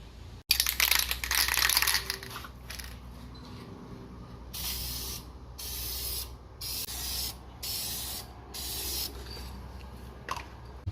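An aerosol can sprays onto the tail lights of a 2003 Mustang in repeated hissing bursts, a long one first and then several shorter ones with brief gaps, close by.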